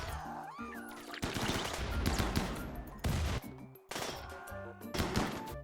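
Gunfire in RimWorld with the Combat Extended mod, rapid bursts of close, loud shots rattling in quick succession over game sounds, with short pauses between volleys.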